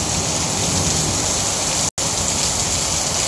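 Heavy tropical rain pours down hard during a storm in Merida, Mexico, a dense, loud, unbroken hiss of water with only a momentary dropout.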